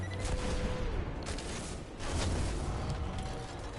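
Heavy rounds of gunfire in Destiny: Forsaken, a dense, loud, continuous barrage of shots and booms with mechanical clatter throughout.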